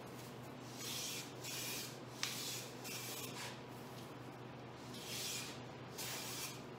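Hand plane taking light smoothing shavings on walnut, a series of soft, hissing strokes, each lasting about a second, with quiet gaps between passes.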